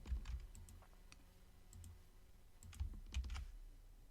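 Keys clack on a computer keyboard in short bursts of typing, with a few firmer strikes such as the Enter key landing near the end. The tapping is close and fairly quiet, with no voices.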